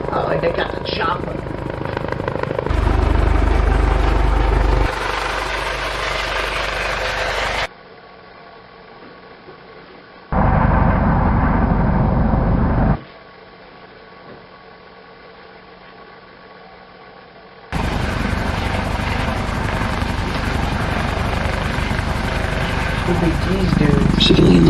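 A civilian-looking helicopter carrying three men runs loudly with a steady rotor and engine drone, broken by abrupt cuts to quieter stretches and a short low burst, then returning at full strength.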